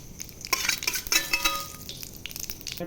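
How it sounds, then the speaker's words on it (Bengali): Nigella seeds and cumin hit hot oil in a wok, a loud, close crackling sizzle with sharp popping bursts and a light scrape of a spoon. "কড়াইতে তেল গরম হয়ে গেছে কালো জিরা জিরে দিয়ে ফোড়ন দিলাম"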